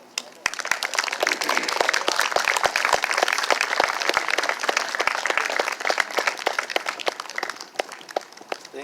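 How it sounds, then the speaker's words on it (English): Sustained crowd applause at an outdoor march rally in Cambridge, dense overlapping claps holding steady at full strength for several seconds before easing slightly. "Let's give her another round of applause."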